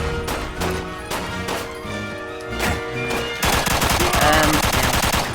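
Rapid bursts of gunfire in the Xbox 360 game Quantum of Solace crackle over a droning electronic music bed, shifting into dense, sustained automatic fire toward the end.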